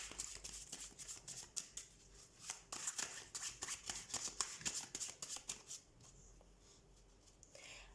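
Tarot cards being shuffled by hand during a card reading, a run of close, crisp riffling and flicking bursts for several seconds that then settles into quieter handling.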